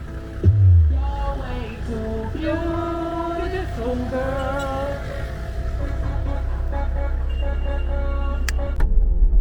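A car driving on a road in Malawi gives a steady low engine rumble and road noise throughout, with loud tonal music playing over it.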